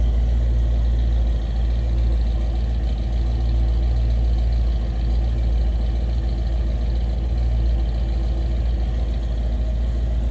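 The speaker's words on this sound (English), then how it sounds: "Nice exhaust note, little rumble coming out of that 302." A deep, steady 302 V8 engine rumble at idle in a 1931 Ford Model A Victoria street rod, low and throaty, droning continuously and loudly through the exhaust without revving.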